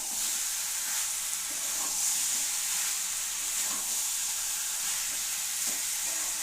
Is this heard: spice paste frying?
yes